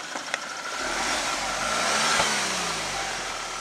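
An Audi A4 fitted with an aftermarket ECS Tuning exhaust revs briefly, its engine note swelling and falling off in one blip, fairly quiet and heard from close by over a steady background hiss.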